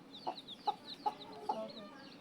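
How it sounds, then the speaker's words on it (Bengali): Newly hatched Sonali chicken chicks give four short, evenly spaced peeps, soft and close, with faint higher chirping between them and no talking. "এগুলো সব সোনালী মুরগির ডিমের বাচ্চা"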